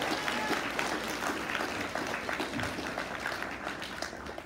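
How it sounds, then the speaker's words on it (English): Big round of audience applause for a film team at a 2023 red carpet event, a continuous crowd of clapping hands at even volume throughout with some voices buried underneath. "Can we get one more big round of applause for the entire team who made that?"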